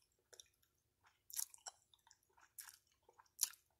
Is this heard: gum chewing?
yes